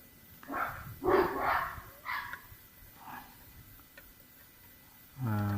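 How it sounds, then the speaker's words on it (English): Dogs bark outdoors at a moderate distance, several separate barks spaced over a few seconds, fairly faint against background hiss, followed by a louder tonal sound at the end. "So dogs always barking."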